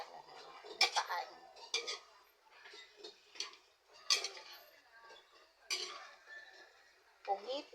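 Chunks of eggplant and octopus are stirred in a cooking pot, giving a series of irregular clinks and scrapes of utensil against metal, with quiet speech between them.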